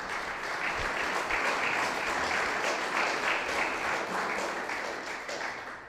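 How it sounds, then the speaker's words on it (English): A crowd applauds city council members at Hammond's State of the City address, steady dense clapping filling the whole stretch at an even level before easing slightly at the end. "Can you please give them a round of applause?"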